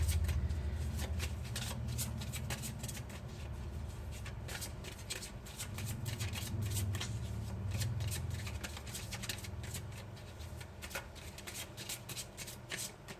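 A deck of oracle cards, Gabrielle Bernstein's Miracles Now, shuffled by hand at close range, making continuous soft riffling and flicking for a long stretch with no talking.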